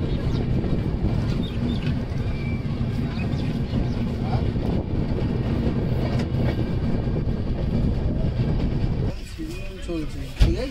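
Passenger train on the Howrah to Jammu Tawi line pulling out of a station, a steady loud rumble of rail and wheel noise with a brief horn blast, then the roar drops away near the end.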